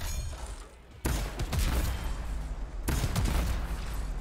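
Rapid bursts of weapon fire in the sci-fi shooter video game Anthem, loud and close, with sharp onsets at the start and again midway, dense sustained fusillade filling the whole clip without talk.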